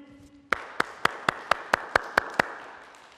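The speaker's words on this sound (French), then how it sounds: "On l'applaudit." Nine to ten sharp, evenly spaced hand claps ring out close by, a small group applauding a girl's ball exercise during a home fitness session, after a brief sustained tone.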